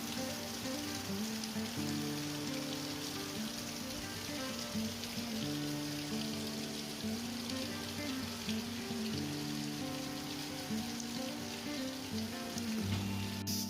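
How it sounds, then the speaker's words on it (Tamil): Heavy rain pours down steadily, a dense hiss of drops drumming on a surface with a faint low rumble beneath, constant and close throughout with no speech. "மழையும் நல்லா உரத்த மழையாக பெய்யுது இன்றைக்கி"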